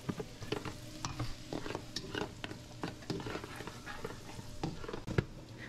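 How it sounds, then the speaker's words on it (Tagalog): Food frying in a pan sizzles steadily while a utensil stirs and scrapes it in irregular strokes, close and moderately loud, with no talking. "Haluin natin."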